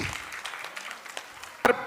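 Brief applause from the audience at a Shrimad Devi Bhagwat Katha religious gathering, a dense patter of many hands clapping with a louder burst near the end.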